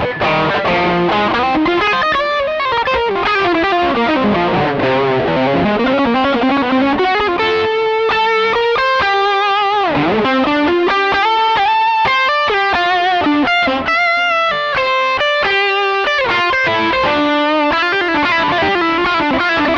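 A Yamaha Pacifica 812 electric guitar, recently refretted, played through heavy distortion, loud sustained chords and melodic runs ringing continuously without pauses or talk.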